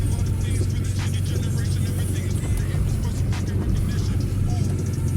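A MeMZ Tavria with a fault of unstable engine revs drives along, its steady low engine drone and road rumble continuous and close throughout, with faint cabin noise above.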